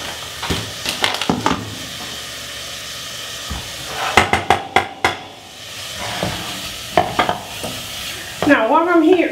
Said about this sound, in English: Now what I'm doing here is I'm sauteing the onion.